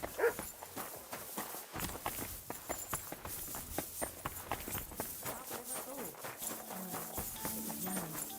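A horse in the video game Kingdom Come: Deliverance II walking along, a steady run of hoof clops with other game sounds faintly underneath.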